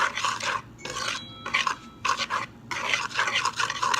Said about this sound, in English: And then we will just mix this all up together.